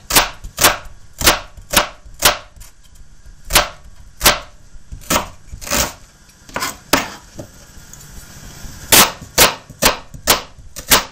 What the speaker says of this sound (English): chop the onions